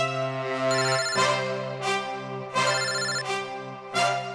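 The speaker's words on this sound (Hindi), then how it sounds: "यहाँ पे किसका फोन बज रहा है?" A phone's electronic ringtone plays a bright, melodic pattern, repeating in bursts, close and clear with no talking.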